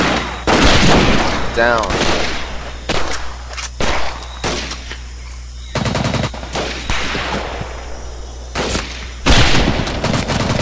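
Gunfire from a Medal of Honor Pacific Assault firefight in bamboo jungle, loud bursts of automatic fire and single shots scattered over ten seconds, with a brief spoken shout.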